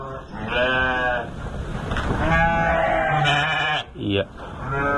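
Sheep and lambs bleating in a breeding pen, several loud wavering bleats close by that overlap one another, with shorter calls near the end.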